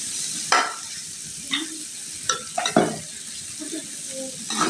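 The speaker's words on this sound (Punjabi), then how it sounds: "ਸਾਲਨ ਗਰਮ ਹੋ ਰਿਹਾ ਵਾ।" Curry warms in a pan on the stove over a steady sizzle, with several distinct spoon-against-pan scrapes and knocks from stirring spaced across the clip.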